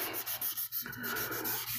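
A sharpening stone scrubbed back and forth over 320 grit sandpaper gives a close, steady abrasive rasp in short repeated strokes, with no voices.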